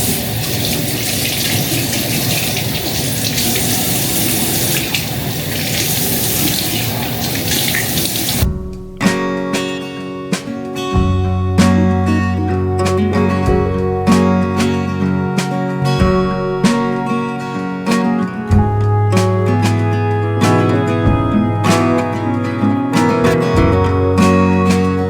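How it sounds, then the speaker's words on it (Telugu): A bathroom tap runs into a sink for about eight seconds in a steady hiss of flowing water during a morning wash in Canada, then it stops and music carries on alone. "సో ఇప్పుడైతే నేను ఫస్ట్ బ్రష్ చేసేసుకొని ఫేస్ వాష్ చేసుకుంటాను"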